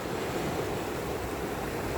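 Waves breaking on a rocky shore, a steady, dense wash of surf filling the whole clip without pause, close and fairly loud, with some wind noise mixed in.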